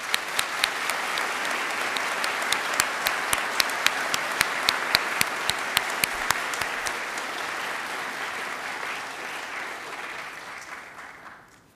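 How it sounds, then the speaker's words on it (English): A summer 2022 graduation ceremony audience in a hall applauds for a school of arts, English and languages, including drama, film and music, a dense, sustained burst of clapping with scattered louder claps that fades out at the end. "giving them a very well-deserved round of applause."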